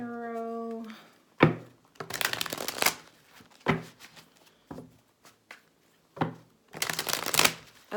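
Tarot cards are shuffled by hand in several short riffling bursts with pauses between, crisp and close, after a brief opening hum.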